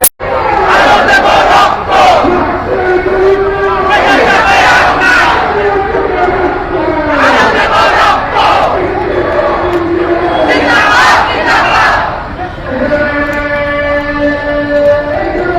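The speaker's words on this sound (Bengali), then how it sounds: "আর তাদের স্লোগান নিশ্চয় শুনতে পাচ্ছি।" Protesters at a nighttime torch march in Chattogram demanding justice for a murder chant slogans in loud rhythmic call-and-response bursts, a large crowd voicing each line together and close by.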